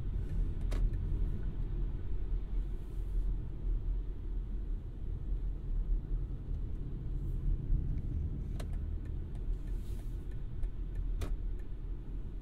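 BMW iX1 electric car heading onto a highway in sport mode, heard from inside as a steady low road and tyre rumble with wind noise and a few faint clicks, with no one speaking.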